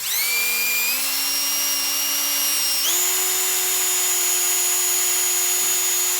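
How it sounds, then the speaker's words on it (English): A dull drill bit grinding into material on a workbench, a steady high-pitched whine that steps up in pitch once and holds, loud and continuous with no talk. "I feel like I'm just melting through this, not even drilling"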